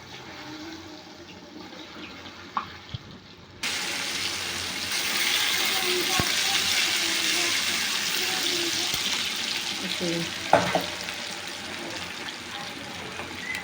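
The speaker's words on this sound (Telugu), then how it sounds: "చక్కగా ఆయిల్ వేడెక్కింది పకోడీని ఒక్కొక్కటిగా వేసుకుందాం" Chicken pakodi pieces dropped into hot oil in a kadai on a stove; near-silence gives way to a sudden, loud, steady sizzling hiss that carries on evenly with occasional pops.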